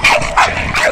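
A Cane Corso dog barks fiercely, three loud close yelping barks in quick succession with no talk over them.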